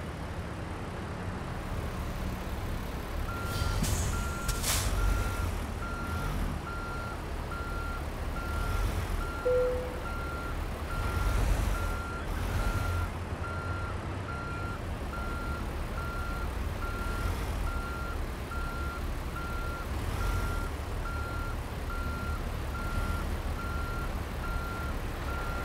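A truck reverses in a Christmas-delivery driving video game, its backup alarm beeping steadily at an even pace over a constant low engine rumble, with a few brief clunks.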